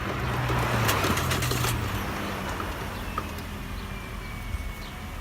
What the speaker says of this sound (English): I'm going to move this up here because there's a car pulling out.